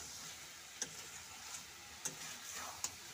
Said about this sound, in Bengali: ঢাকা সরিয়ে আবারও একবার নাড়াচাড়া করে নিচ্ছে